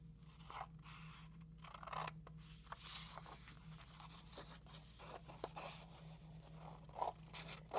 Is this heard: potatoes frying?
no